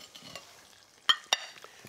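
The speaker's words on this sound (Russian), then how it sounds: "Вот так мы шкварчим." Pork chops frying in a pan give a soft, low sizzle, broken by two sharp clinks of a utensil against the pan near the middle; no one speaks.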